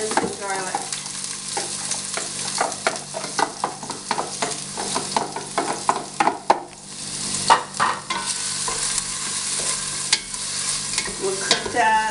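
Onions and garlic sizzle and fry in hot oil for curry puff filling, with a steady crackle throughout and repeated scraping and stirring strokes of a utensil in the pan, close and fairly loud.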